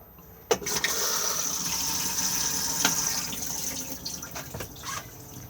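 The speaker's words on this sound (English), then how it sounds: "Push to flush" A Thetford cassette toilet flushes in a Hobby Siesta T-65 caravan washroom, with a click as the lever is pushed, then a steady close rush of water lasting several seconds and a few small knocks near the end.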